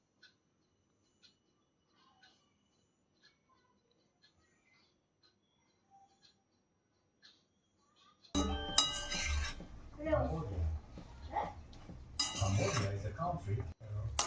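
Makhana being stirred and roasted in a pan with jaggery coating over low heat, with close, loud scraping and clinking of a utensil against the pan that starts abruptly after a quiet stretch and continues in busy bursts.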